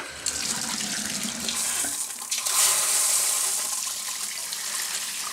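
Hot water runs from a tap onto a knee, a close, loud continuous splashing hiss that shifts in tone as the stream hits skin.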